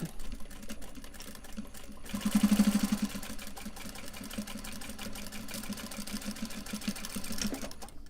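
A sewing machine stitching a Japanese fabric cell phone purse runs in a steady mechanical whir, fairly quiet, swelling briefly louder early on, then continuing evenly to the end with no talking.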